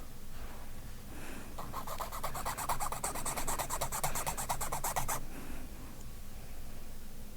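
A file or rasp strokes back and forth over a workpiece while pins are fitted to a bridge plate, giving a steady run of rhythmic rasping cuts for several seconds, fairly close and alone, with quieter scraping before and after.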